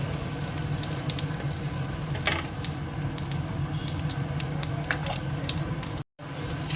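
Dried red chilli and cumin sizzling in hot oil make a loud, steady frying crackle with scattered sharp pops, close by, with a brief cut to silence near the end.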